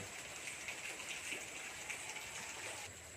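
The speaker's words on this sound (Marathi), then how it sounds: "बघ पावसाची पुन्हा जोरदार सर आली" A heavy rain shower pours down in a steady, dense hiss that holds at an even level throughout, close by and with no voices.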